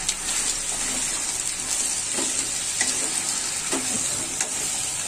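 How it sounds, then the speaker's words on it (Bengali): Potato pieces with a little turmeric frying in oil in a pan, a continuous bright sizzle with occasional stirring scrapes, close and steady with no talking. "এখন আমি একটু ভেজে নেব।"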